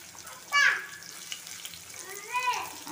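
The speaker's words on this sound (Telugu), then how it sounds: "ఇప్పుడు మనం ఆనియన్స్ వేసుకుందాం." Onions sizzle and fry in a hot pan for an aloo egg bhurji curry, a soft steady crackle with a louder burst as they hit the oil and stirring scrapes near the end.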